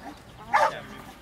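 A dog gives a single short, sharp bark at close range, standing out briefly above quiet background room noise.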